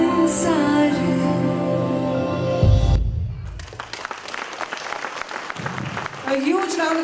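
Music from a children's performance at a school annual day stops abruptly, and audience applause follows. Scattered, crisp claps carry on under a voice that comes in near the end.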